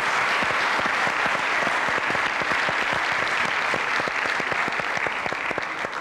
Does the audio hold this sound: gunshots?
no